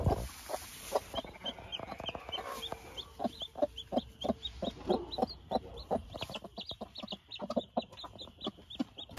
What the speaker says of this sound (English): so that these mom hens can just kind of baby these chicks